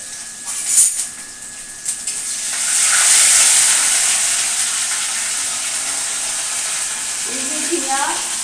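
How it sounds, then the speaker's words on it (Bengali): Ginger, fenugreek, mustard seed and radhuni tempering hitting hot oil, a steady hissing sizzle that swells and holds close up, with brief clatters and a little background noise near the end. "দিয়ে দিলাম আদা ফোড়ন, আর ওখানে দিয়ে দিলাম মেথি"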